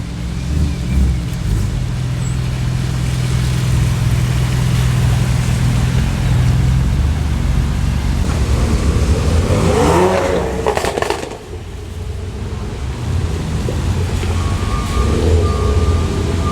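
A BMW pulls up at an outdoor Florida car meet, its engine rumbling steadily and loud and close, with a low drone that swells around the midpoint before easing off.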